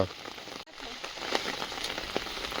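Rain falls in a steady, soft hiss of scattered drops by a waterside fishing spot, quiet and continuous with no voices.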